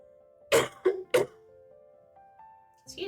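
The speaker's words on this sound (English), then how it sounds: "I'm gonna cough on you guys." Three sharp coughs from a person in an indoor streaming setting, close and fairly loud, followed by a faint sustained tone and a short rustle near the end.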